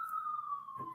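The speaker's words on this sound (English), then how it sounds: "Is that siren coming down my way?" An emergency siren wails faintly in the distance outside, one steady tone drifting slightly lower over a second, alone and quiet.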